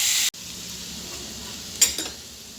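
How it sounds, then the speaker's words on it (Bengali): Mixed vegetables fry in hot oil in a kadai with a steady close sizzle. A brief scrape of stirring comes near the end. "আমার সব সবজিগুলো ভাজা হয়ে গেছে।"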